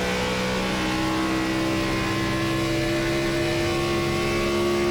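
A NASCAR race car engine in iRacing at Michigan held on smooth throttle, a loud, steady high-pitched drone with layered harmonic tones that climbs slightly, heard alone without talk.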